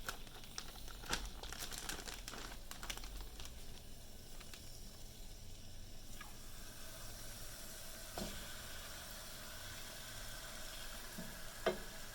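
Beef pieces sizzling and crackling steadily in a frying pan for a beef and broccoli dish, with faint scraping and crinkling taps throughout and a sharp clack near the end, no talking.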